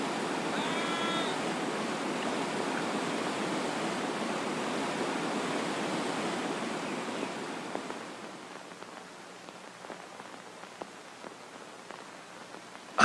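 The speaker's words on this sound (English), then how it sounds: "here comes our first section of rapids" Loud, steady rushing water of river rapids roars for several seconds, then fades to a quieter flow with faint splashes and knocks.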